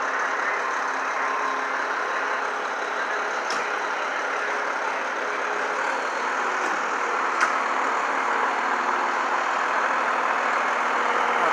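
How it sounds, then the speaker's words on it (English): A tow truck engine runs steadily at a city street scene in Brooklyn, a continuous mid-level diesel drone with a couple of faint clicks, fairly close and unbroken. "Here comes the tow truck now to tow away the disabled and damaged garbage truck."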